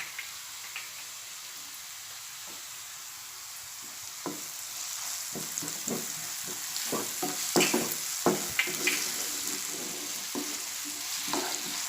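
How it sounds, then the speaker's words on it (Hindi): Green masala and turmeric sizzle in hot oil with softened onions for a sprouted moong curry. A steady frying hiss runs throughout, while scattered spoon scrapes and clicks grow busier in the second half. "अब मैं इसमें हरा मसाला डालूंगी और हल्दी डालूंगी"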